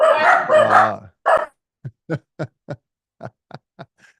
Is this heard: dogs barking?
yes